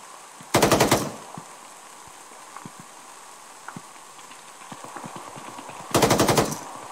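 Two loud bursts of rapid automatic gunfire from a machine gun in a sandbagged bunker in the military shooter ArmA 3, each lasting about half a second, separated by quiet ambient background with faint scattered clicks.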